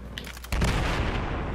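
Gunfire in the Battlefield 4 video game: a few sharp shots, then a sudden, dense burst of loud, continuous firing and booming that holds steady to the end.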